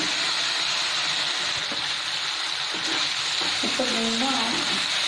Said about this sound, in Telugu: ఇప్పుడు దీనిలో ఒక 1/2 కప్ వాటర్ ఇస్తున్నాను.